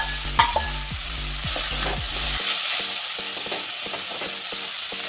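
Fried eggplant stirred into a pan of sizzling oil while cooking a Bengali hilsa-head and water spinach dish, a continuous frying hiss with rhythmic scraping strokes of a spatula, close and fairly loud, with no talking.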